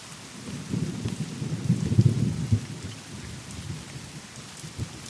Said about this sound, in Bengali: শুধু ঝমঝম করে বৃষ্টির ফোঁটার শব্দ